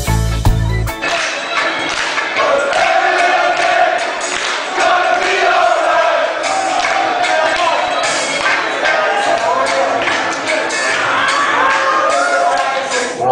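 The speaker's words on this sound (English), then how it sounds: "Dancing, clapping, singing along to the song." A large crowd of AFC Ajax football fans in Amsterdam cheers and shouts together in a dense, continuous roar, with scattered claps and voices singing along to a song throughout.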